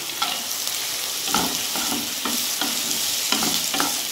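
Cashews, garlic, ginger, clove, cinnamon and bay leaf fry in a pan with a steady close sizzle, broken by repeated scraping stirs of a spoon at a slow, uneven rhythm, with no voices.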